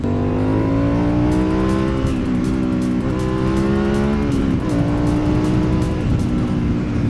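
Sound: MT-09 SP motorcycle accelerating past

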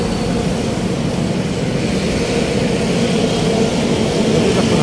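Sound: MRT metro train running

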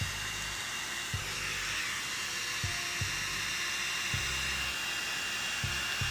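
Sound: L'Ange Le Duo Grande airflow curling styler fan running

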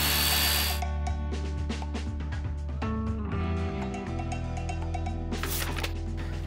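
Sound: Bosch GBH 185-LI cordless rotary hammer drilling

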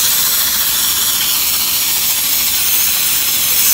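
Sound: spraying figs with a spray bottle

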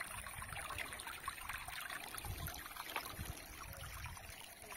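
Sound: thin trickle of water flowing

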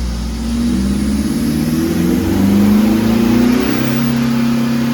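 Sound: remapped Mitsubishi Triton 2.4 MIVEC engine revving

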